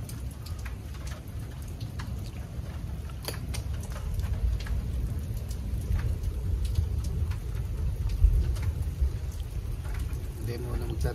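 Steady rain falls by the sea, a dense hiss of drops pattering on surfaces with scattered sharper splashes and a low rumble beneath, continuous and fairly close.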